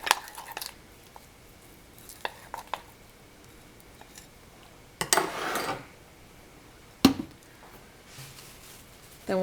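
Sourdough starter is stirred in a bowl, with sparse spoon-on-bowl clinks and scrapes, a few sharp knocks and a longer wet scraping burst in the middle, moderately close over quiet pauses.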